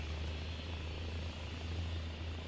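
Helicopter in the video game Arma Reforger, a constant low rotor and engine drone heard from inside, steady and even with no other sounds.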